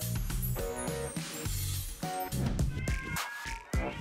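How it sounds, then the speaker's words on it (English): Several cats meow close by in repeated, drawn-out cries that overlap one another, fairly loud, with a lively background and occasional voices. "Meet my beloved cats."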